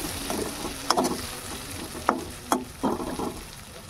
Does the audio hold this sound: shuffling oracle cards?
no